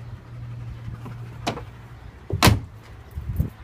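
Rear door of a 1995 Chevy Tahoe with its panels off, stuck until recently: a low mechanical hum, then a sharp clunk and a louder latch-and-swing clatter, with a few smaller knocks at the end.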